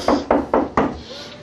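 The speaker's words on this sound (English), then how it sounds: "There's a knocking indeed." Four sharp knocks on a wooden door, evenly spaced and close, followed by a brief quiet tail.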